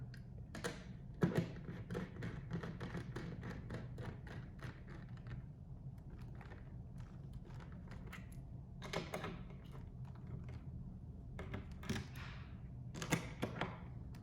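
A socket wrench tightens a fastener inside a Corsair 5000X PC case, producing a scattered series of quiet clicks, taps and small knocks at close range with no talking.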